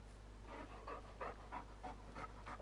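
Dog panting in the Farming Simulator 19 game, quick rhythmic breaths about eight in a row, faint and steady over a low constant hum.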